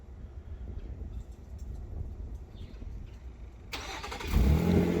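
Quiet background hum, then an Infiniti QX60 engine, started by remote start, suddenly cranks and catches, settling into a loud, steady idle close by.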